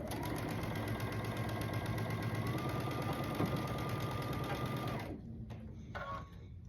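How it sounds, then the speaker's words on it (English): A quilting sewing machine stitches a quarter-inch seam on a Sunbonnet Sue block, a continuous close whirring hum with fast regular needle pulses that cuts off near the end, leaving light handling noise. "Right sides together, sew it a 1/4 inch down that side."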